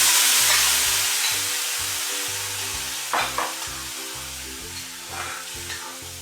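Peeled, finely ground tomato puree sizzles in a hot pan over ginger garlic, a steady crackling fry with a few stirring scrapes, close and fairly loud with no voices.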